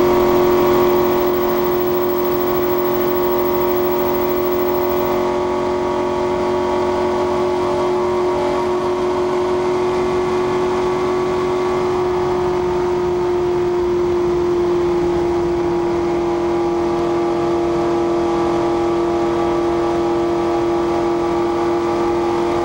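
A car being driven, heard from inside the vehicle: a steady, unbroken engine and road drone that holds at an even level for the whole stretch, with no one talking.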